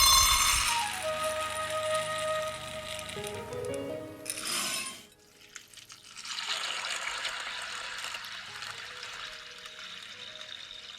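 Water gushes from a tap into a bowl of dry organic soybeans, a loud running pour with rising pitch as it fills, a brief clink, then a quieter second stream of water.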